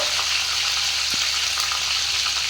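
Bay leaves and panch phoron frying in hot oil for vegetarian khichuri, a dense continuous sizzle up close with a faint single tap partway through, no voices.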